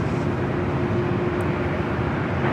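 Out at LAX, a China Eastern Boeing 777 jet taxis with a steady, broad engine roar and a low hum. The sound is constant and fairly loud throughout, with no speech.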